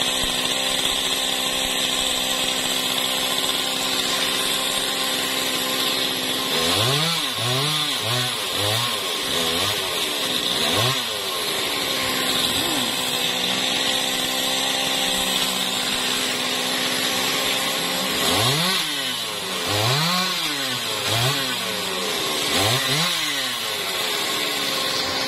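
Chainsaw cutting down a fruit-laden Thai jackfruit tree at a home, engine running steadily throughout with two bursts of rising, revving cuts into the wood, close and loud, no talking.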